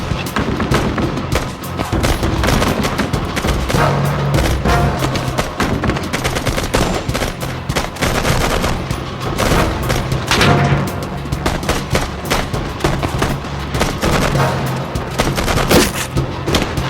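Enemy gunfire rattles in dense, overlapping bursts of automatic shots and heavy booms, loud and relentless throughout a battle scene.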